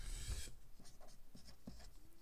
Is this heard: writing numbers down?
yes